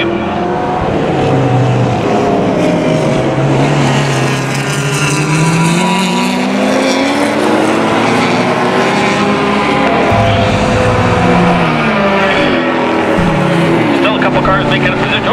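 Closed-wheel race cars, among them a BMW, roar around the Mission Raceway circuit, with loud overlapping engine drones rising and falling in pitch as they shift and pass, with a commentator talking over them.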